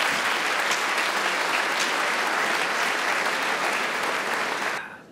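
Concert audience applauding, a dense, steady wash of many hands clapping at close range that holds loud throughout and then drops away sharply near the end.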